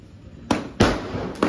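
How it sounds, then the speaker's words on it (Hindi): Small firecrackers going off in a street, three sharp bursts in quick succession with a crackling tail after the second, loud and fairly close. "छोटे फायरवर्क्स, नकली बम, साले नकली बम"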